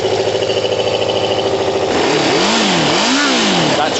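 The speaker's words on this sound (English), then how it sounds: "That's revving way too good to be firing on 2 or 3. That's firing on 4." A Kawasaki ZL600 motorcycle engine running on all four cylinders, idling steadily and then revving up and down in several swelling blips, loud and close with no talking.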